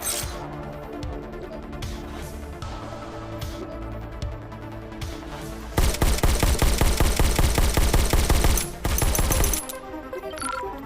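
Rapid gunfire from a haptic pistol in a VR shooter game, loud close bursts of fast repeated shots forming a dense volley that intensifies partway through, with no talking.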